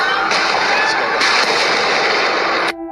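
Gunfire from a shooting at North Bondi, behind the beach pavilion, caught in news footage: a loud, dense, continuous roar of shots and noise that cuts off abruptly near the end.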